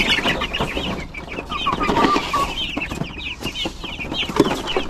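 Chickens cluck and chatter close by in a crowded coop, several birds calling irregularly over a busy farmyard background.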